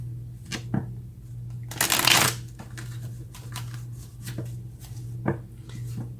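Tarot cards being shuffled and drawn, with light taps and flicks and one brief riffling burst in the middle, close and quiet over a steady low hum.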